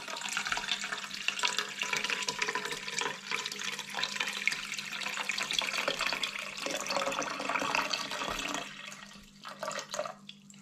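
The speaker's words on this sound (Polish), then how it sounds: "Woda leje z czajnika, ale ona jest y, zimna, no może nie zimna, tylko letnia" Lukewarm water pours steadily from a kettle into a pot while a ham is prepared for a ham press, a continuous close splashing stream that fades and breaks up near the end.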